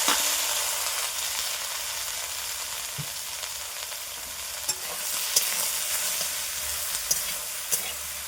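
Chopped ridge gourd pieces frying in hot oil with dried chilli and cumin in a wok, giving a continuous close sizzle with occasional stirring clinks and scrapes.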